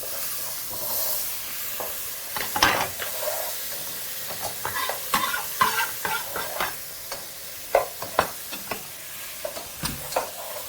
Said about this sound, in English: once your tomatoes are chopped up into chunks, proceed to add those to your pan